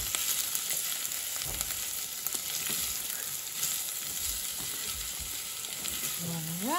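Lots of garlic searing in a hot pan, a steady close sizzle and crackle with occasional stirring scrapes, continuous throughout.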